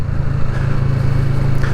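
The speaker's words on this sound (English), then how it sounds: "we get a little bit more noise from that Arrow exhaust" Kawasaki Vulcan S motorcycle fitted with an Arrow exhaust rides close past brick walls, its engine a loud, steady low drone rumbling continuously throughout with no talk.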